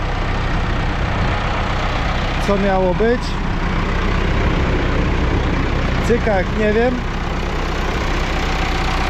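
Ursus 912 tractor engine idles with a constant low throb throughout while someone speaks briefly over it twice.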